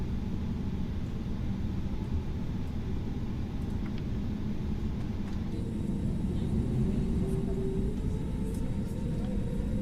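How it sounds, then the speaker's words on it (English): Airbus A320neo taxiing at Bangkok in Microsoft Flight Simulator, a steady low engine rumble and hum with a faint rising whine partway through, continuous and unbroken. "Thai 281 is taxiing to the active 19 right in Bangkok"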